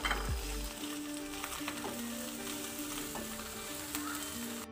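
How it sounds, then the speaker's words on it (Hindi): Finely chopped capsicum and green chillies fry in a pan with a steady, close sizzle that runs the whole time, with a few faint clinks of the utensil and no one speaking. "2 मिनट बस फ्राई करेंगे"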